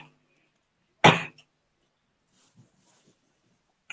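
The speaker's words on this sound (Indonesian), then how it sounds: "Batuk nih aku nih." One sharp, close cough from a woman breaks an otherwise quiet room, followed by a few faint small noises.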